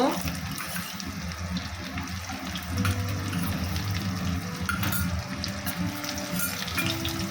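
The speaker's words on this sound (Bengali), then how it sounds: "এই তেলের মধ্যে এখন আমি দু চামচ রসুন কুচি দিয়ে দেব" Chopped garlic sizzling in hot oil in a pan while cooking chili chicken, a steady broad hiss and crackle that runs continuously and swells slightly partway through.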